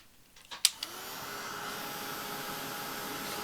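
A hair dryer is switched on to dry watercolour-painted die-cut paper flowers, with a few clicks and bumps at the start before a steady, close whooshing airflow settles in and runs on alone.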